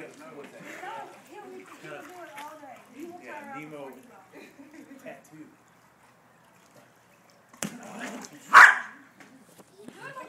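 A dog playing volleyball gives a short, sharp bark after a stretch of people talking over the scene, with a quiet pause before it and a loud burst of play noise around the bark.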